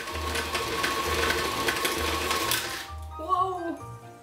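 An electric mixer whirs steadily through pumpkin spice cake batter with a constant motor drone and faint scraping. It then cuts off abruptly and a voice exclaims.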